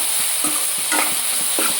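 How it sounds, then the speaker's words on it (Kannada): Tempering sizzles in a hot pan while leftover chapati noodles are being prepared: a steady hiss of frying runs throughout, with a few short spattering pops and stirring scrapes close by, and no voices. "ಒಗ್ಗರಣೆನೂ ಹಾಕ್ತಾಯಿದ್ದೀನಿ ನೋಡಿ"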